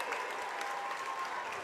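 Sustained roar and clapping from an on-their-feet crowd at a high school ice hockey district final, a steady dense wash of cheering with a faint tone running through it.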